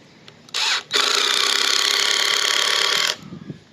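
Power driver sinking a 3-inch screw into deck frame lumber: a short burst, a brief pause, then one sustained loud whirring drive of about two seconds that stops abruptly, close by with no talk.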